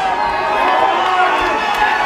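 Boxing crowd at a white collar boxing event in Telford cheering for the red corner, a dense roar of shouting and chatter filling the hall, steady and fairly loud throughout.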